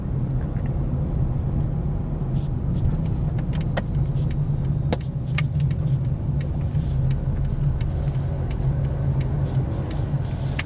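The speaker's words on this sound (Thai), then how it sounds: "ตอนนี้เราอยู่กันในลานจอดรถกว้างๆ มากๆเลย ก็เดี๋ยวจะขับไปหาที่หัดจอด" A car rolls slowly across a wide parking lot in California, heard from inside as a steady low engine and road rumble with faint ticking clicks scattered over it, and no talk.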